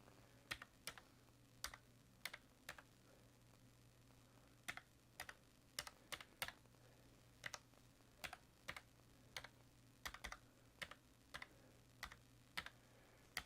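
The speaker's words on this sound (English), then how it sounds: "I'm a slow typer." Slow, irregular typing on a computer keyboard, with sharp key clicks arriving singly and in small bursts. Close and fairly clear over a steady low hum, with no talking.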